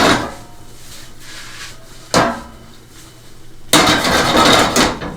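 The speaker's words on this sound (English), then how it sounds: "Stirring that up, mixing it around, getting that egg mixed in with it." Egg fried rice being stirred in a pan, with sharp metallic scrapes and clanks of a utensil against the pan at irregular intervals amid quieter stirring.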